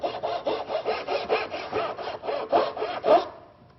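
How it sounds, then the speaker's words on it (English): Handsaw cutting dovetails in a wooden table drawer, heard as a steady rhythm of about a dozen close, rasping back-and-forth strokes that stop abruptly near the end, with no voices. "Using a handsaw,"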